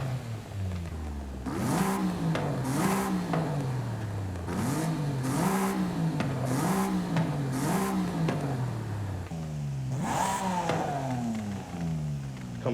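A tuned car with race cams in Forza Horizon 5 revs repeatedly, a loud mid-pitched engine climbing and falling in rhythmic pulses, with one longer rev near the end.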